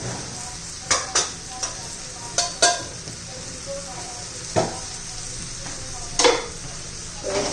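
A spiced mixture with turmeric and red chilli powder sautés in a pan, giving a low continuous sizzle broken by sharp clinks and scrapes of stirring at irregular intervals.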